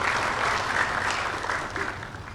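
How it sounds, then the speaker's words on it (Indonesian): A graduation audience at Universitas Paramadina gives steady, dense applause for the university rector, a broad continuous clapping from a large hall crowd, held at an even level throughout. "Tepuk tangan untuk Bapak Rektor kita,"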